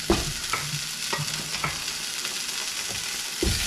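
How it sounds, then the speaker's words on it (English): A piece of oxtail sizzles in hot olive oil, a steady close crackle of frying with a few sharper pops and stirring clinks scattered through, nobody speaking. "You want to hear the Sound of the sizzle?"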